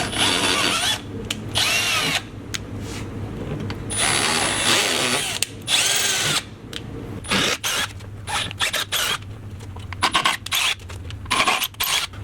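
A power drill runs in repeated bursts, whirring and starting and stopping as it taps holes in the nose section of a skid plate for an off-road vehicle.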